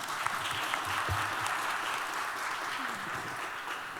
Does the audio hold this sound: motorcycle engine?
no